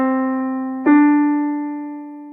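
A keyboard plays two sustained notes, C then D, an ascending whole step; the first tone rings alone before the second, slightly higher note strikes and decays cleanly.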